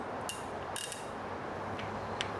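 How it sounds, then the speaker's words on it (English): Someone loosens the clutch cable adjuster on a motorcycle, giving a few faint close clicks and ratcheting ticks over a quiet background hum. "go ahead and loosen up the clutch cable"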